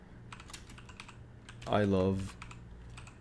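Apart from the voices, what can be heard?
typing code on a computer keyboard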